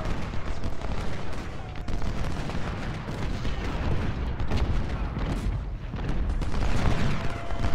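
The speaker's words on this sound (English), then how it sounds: "I want to see if we can get Allen firing on their flank." Massed musket and artillery fire from the American Civil War strategy game Ultimate General: Civil War rolls on as a dense, continuous crackle and rumble of distant volleys and booms, with no talk.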